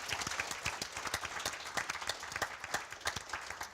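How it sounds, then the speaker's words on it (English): Audience applause during a live legislative talk show event for the American Cancer Society's New York advocacy network, a moderate crowd clapping in distinct, fairly quick claps with a faint voice underneath. "So Jeremy Ellenbogen and his staff, a special round of applause"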